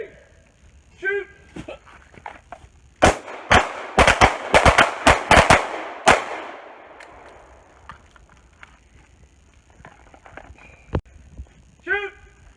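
Pistol gunfire on a combat shooting course: a rapid burst of about eight loud, sharp shots over roughly three seconds, with a scattered shot later, while voices call out before and after.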